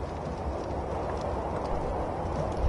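In the video game Ark Genesis, a creature stomps with rapid, dense thudding footfalls at close range, steady and continuous over a rumbling background without speech.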